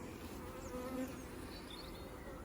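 A dense, continuous drone of a swarm of honey bees buzzing nearby at a beehive, with individual bees whining higher as they fly past.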